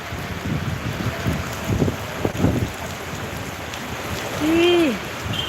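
Heavy afternoon rain pours down in Papua as a steady hiss with gusty wind noise, while a voice speaks briefly over it.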